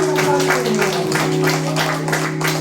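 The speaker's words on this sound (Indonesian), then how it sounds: "Beri tepuk tangan dulu untuk Tuhan." Church congregation applauding during a bilingual service, a steady wash of clapping from many hands that runs through the whole stretch, mixed with sustained music and faint voices beneath.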